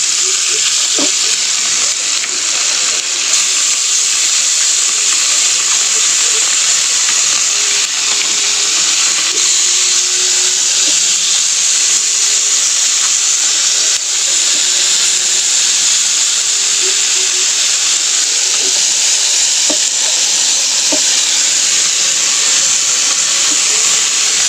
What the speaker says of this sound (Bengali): আমুদি মাছগুলো আগে ভেজে নেব